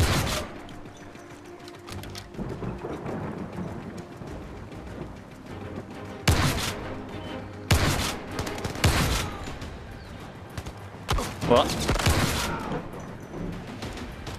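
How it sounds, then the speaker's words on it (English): Gunfire in the VR shooter Zero Caliber: Reloaded, with several loud shotgun blasts and bursts of shots over a continuous hum of game noise and mechanical clatter, spaced irregularly across the stretch with no talking. "That's why I love shotgun."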